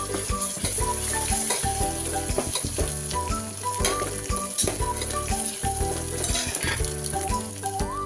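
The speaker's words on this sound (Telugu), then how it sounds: "ఒక వన్ స్పూన్ అల్లం వెల్లుల్లి పేస్ట్ కూడా వేసేస్తున్నాం మంచి అల్లం పేస్ట్ మనకి స్మెల్ పోయే వరకు కలుపుకోవాలి" Spices and ginger garlic paste for mutton curry fry and sizzle loudly and steadily in a pan, with continuous crackling and stirring and no voices.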